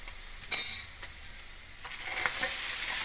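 Grated coconut fries in a pan as cooked horsegram is tipped in, with a sharp hiss bursting up, fading to a soft crackle, then a steadier sizzle returning, close and clear, with no talking.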